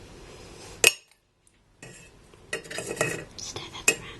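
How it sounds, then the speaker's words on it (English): Spoon clinking and swirling tea leaves in a cup, with a sharp clink, a brief silence, then soft scraping stirs and another clink, quiet and close in a hushed setting. "Stir that around a bit."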